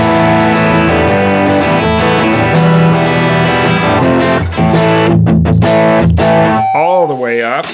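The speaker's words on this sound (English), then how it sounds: "It's really increasing the distortion at this point." Electric guitar played through a distortion pedal, loud sustained chords and notes with thick, gritty saturation, ending in a wavering, warbling held tone.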